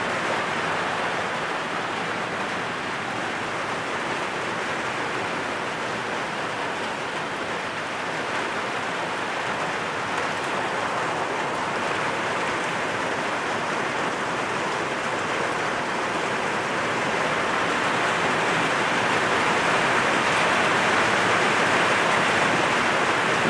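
Heavy rain pours steadily onto a barn roof, a dense, continuous hiss that holds for the whole stretch and swells slightly louder toward the end, with no voices over it.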